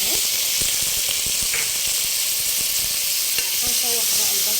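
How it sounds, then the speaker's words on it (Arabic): Grated onion frying in hot ghee, a loud continuous sizzle and hiss with occasional stirring scrapes, close up. "هنشوح بقى البصله"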